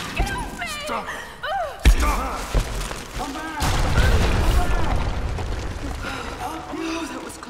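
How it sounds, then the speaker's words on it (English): Deep booms and thuds from explosions inside a cave in the Tomb Raider 2013 video game, with a heavy blast and rumble rolling on, mixed with game music and character voices. "We're inside a cave, so we're gonna just light nothing but fires and cause explosions."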